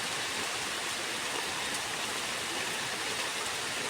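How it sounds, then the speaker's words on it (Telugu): Heavy rain pours down in a dense, unbroken roar of broadband hiss, loud and steady throughout with no voices. "పొద్దున్న నుంచి వస్తుందండి వర్షం, చాలా గట్టిగా వస్తుంది"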